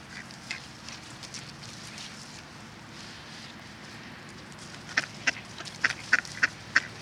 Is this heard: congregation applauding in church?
no